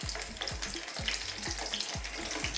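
Zucchini cooks gently in hot oil with a constant, even sizzle, punctuated by rhythmic low thumps roughly every half second, with no talking.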